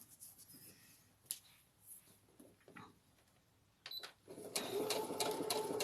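A sewing machine stitches a seam on a girl's dress with a 5/8-inch seam allowance. Quiet handling comes first, then a close, steady whirring run of stitching through the last second and a half.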